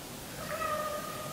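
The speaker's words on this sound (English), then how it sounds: "Oh, my kitty cat." A pet cat meows from somewhere nearby during an indoor makeup session, giving one drawn-out, moderately faint tonal meow that rises and holds steady over quiet room tone.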